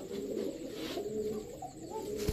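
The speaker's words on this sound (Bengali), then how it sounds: "দেখেন ব্ল্যাক ড্যানিশ, এটা হচ্ছে আপনার নর" Black Danish pigeon cooing in soft, low repeated murmurs, close by and steady, with no talk over it.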